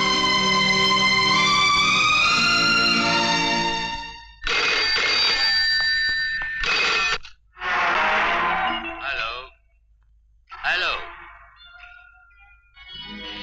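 A telephone rings with a repeating electronic trill in the first few seconds, followed by intermittent voices speaking with pauses between, in a Hindi action film.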